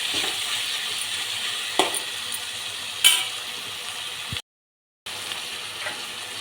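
Tomato chutney with tamarind and coriander cooks in a pan with a steady, moderate sizzle, broken by a few sharp clacks of stirring and a brief moment of silence.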